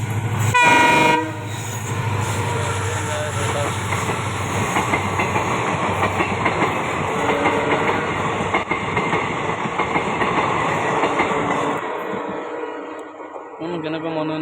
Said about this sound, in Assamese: ট্ৰেইন আহি আছে এতিয়া।